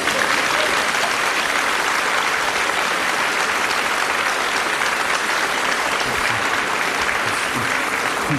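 Sustained audience applause at a 1990 Czech televised show, a dense, steady wash of clapping from a large crowd, loud and continuous throughout with no speech over it.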